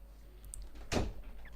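A short door-opening sound from the video game Dragon Age: Origins, heard as one sharp burst of movement with a swishing sweep, set against a low steady hum.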